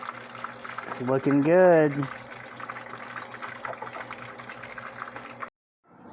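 Skinned crappie frying in a pan, its steady broadband sizzle running underneath a man's speech and then cutting off abruptly near the end.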